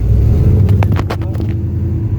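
A carbureted car engine with a Holley carburetor idles with a steady, low, even rumble, close by and continuous, with faint light taps on top.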